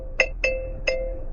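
Car warning chime in a 2025 DENZA Z9 GT PHEV alerting to a vehicle on the right: three quick, clear electronic ding tones, each ringing briefly, close and moderately loud.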